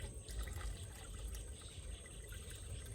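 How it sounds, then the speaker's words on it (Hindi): Water is poured into a hydroponic bucket for growing tomatoes, producing a steady, soft, continuous splashing flow that stays even throughout. "इस तरह हम इसमें पानी ऐड करेंगे"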